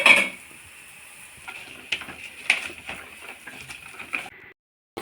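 Akki rotti, a rice roti, fries in oil on a pan with a steady soft sizzle, while a few light scraping clicks mark it being flipped and handled, before the sound cuts off near the end.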